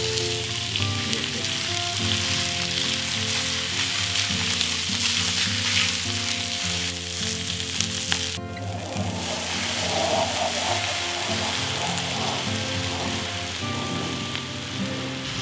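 Steady, loud sizzling of pork kimchi stew frying in a hot pot, a continuous crackling hiss that fills the whole stretch with no talking.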